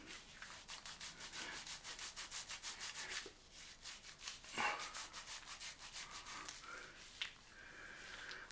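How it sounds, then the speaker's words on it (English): Wet hands rub shaving product together and onto skin in quick rhythmic strokes, a close, steady soft swishing with brief pauses and no talk. "Just rub this in."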